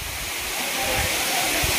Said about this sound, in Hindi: और यही देखिए, यहीं से पानी गिरता है।